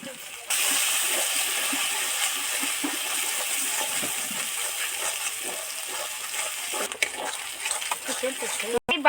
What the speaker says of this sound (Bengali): বাটি ধুয়ে যে জলটা আছে সেটাও এর মধ্যে অ্যাড করছি